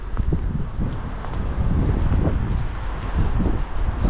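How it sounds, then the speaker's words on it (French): Steady gusting wind buffets the microphone with low rumbling bursts, a continuous outdoor roar in Sidi Bel Abbès, Algeria; rain is not distinctly audible beneath it. "On a de la pluie, du vent à Bel Abbès."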